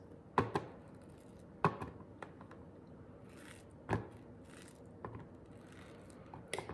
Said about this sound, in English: we're just gonna take our peaches and cut them into slices like